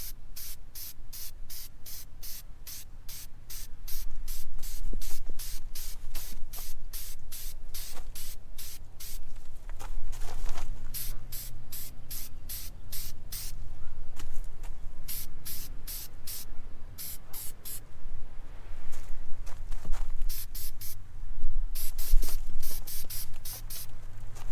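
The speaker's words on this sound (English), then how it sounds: "So let's go ahead and spray it." Rapid bursts of aerosol cleaner spray hiss repeatedly onto a dirty K&N car air filter over about twenty-five seconds, close and loud, with short pauses between pumps.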